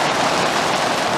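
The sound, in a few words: heavy rain coming down in the desert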